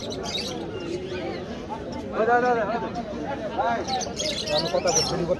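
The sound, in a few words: talking myna bird calling at a market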